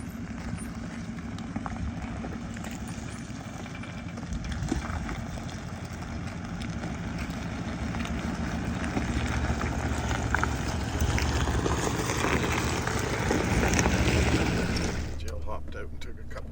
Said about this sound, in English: We're in low range, first gear, just idling basically